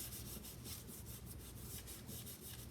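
A hand rubbing firmly over white cardstock laid on an embossing surface, a steady, faint, close scraping swish in repeated back-and-forth strokes, with no talking.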